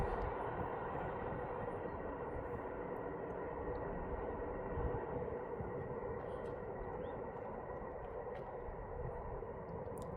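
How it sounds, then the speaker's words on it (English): Aurizon double-stack freight train with three locomotives rolling around a curve, a steady, continuous rumble and rail roar holding at an even, fairly loud level throughout with no voices. "And there she goes around the curve"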